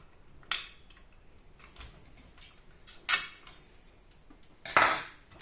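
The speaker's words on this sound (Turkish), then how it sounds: "Şöyle kenarlarındaki mandalları düz tornavida ile açıyoruz." Flat screwdriver prying open the plastic latches of a CPU cooler fan on an old desktop computer, giving three sharp snapping clicks spaced a couple of seconds apart over quiet background.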